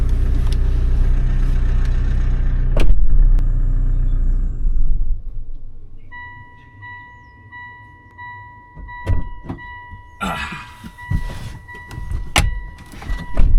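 A car engine cranks and runs at a low idle rumble while warming up, then cuts out and falls quiet; later a steady whine and some clattering, knocks and rustling are heard.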